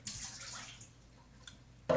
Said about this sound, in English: then you pour your water in